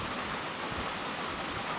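Steady rain falls on the roof of an open shelter at an old ruined city in Sri Lanka, with strong wind blowing some of it inside; a dense, even hiss with no voices, continuous throughout.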